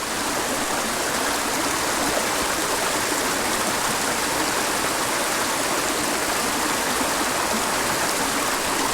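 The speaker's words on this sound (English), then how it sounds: "I've gotten to the waterfall area." Waterfall on a small Michigan creek, a continuous close rushing roar of falling water with no gaps, no voices and steady loudness throughout.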